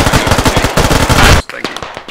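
Rapid automatic gunfire from the video game Squad, aimed at a vehicle's tires during a monastery assault: a loud, close burst of dense, hammering shots lasting over a second, then cutting off into quieter scattered sounds.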